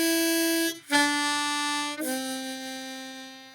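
Harmonica plays three sustained notes in a row, 2 hole blow, 1 hole draw, then 1 hole blow, the opening of Hot Cross Buns, loud and close with brief breath gaps between notes and no voice.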